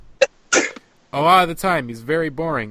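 Two quick sneezes burst out close to the microphone during a music podcast conversation, sharp and brief, followed by someone talking.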